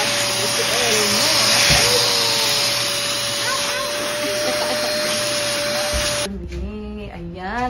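A vacuum cleaner runs loudly and steadily while a house is cleaned, holding a constant whine before it cuts off near the end and a voice speaks.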